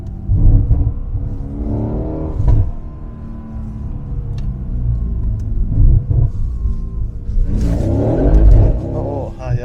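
A Mercedes C63s with the Brabus package and an IPE exhaust accelerates with a deep, loud rumble that swells twice. People laugh and talk over the engine throughout.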